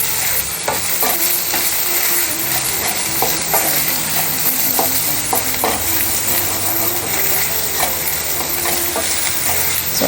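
Ingredients for palak paneer frying in a pan, a dense, loud, continuous sizzle with spatula stirring scrapes and taps throughout.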